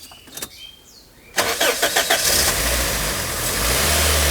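A 2005 Toyota Hiace GL van engine cranks and catches abruptly after a quiet stretch, then settles into a steady, loud, close idle with a brief rev; no one speaks over it.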